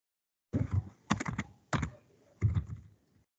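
Java code being typed on a computer keyboard in the NetBeans editor, heard as four close bursts of rapid key clicks separated by short pauses, with no talking.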